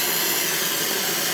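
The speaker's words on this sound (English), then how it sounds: "Hot water for this machine" Hot water runs steadily from an Expobar dual boiler espresso machine, a continuous close, even hiss and rush of water with no break across the short span.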